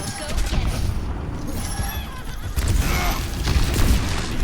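Gunfire from the video game Overwatch, Widowmaker sniping: sharp shots and booms burst out over a dense, busy mix of game noise, with talk over it.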